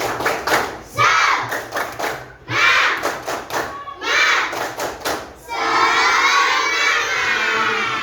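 Class 4A schoolchildren perform a rhythmic group clapping chant, loud and close, with bursts of synchronized claps and shouted voices, ending in a sustained cheer.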